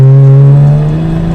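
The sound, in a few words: BMW 335i N54 turbo spool with sound tube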